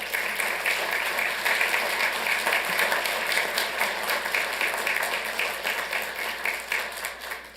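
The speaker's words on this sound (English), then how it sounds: "If you would please give all these ladies a round of applause." Audience at a city council meeting giving a steady round of applause, many hands clapping continuously at a moderate distance throughout, easing slightly toward the end.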